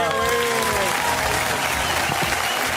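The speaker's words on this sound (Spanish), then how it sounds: "Un aplauso." A studio audience applauds at a Spanish-language comedy show with celebrity impressions, producing dense, steady clapping throughout with a few voices mixed in.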